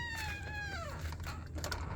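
A house cat lets out a single clear, drawn-out meow that slides downward, close and indoors, followed by faint shuffling and low background hum.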